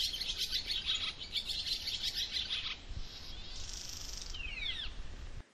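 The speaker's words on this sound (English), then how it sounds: "you could hear at the end there what the marsh warbler kind of does" Marsh warbler song throughout: a bright, busy warbling phrase, then a pause and a run of rapid high trills and sweeping notes near the end, over a low background hum.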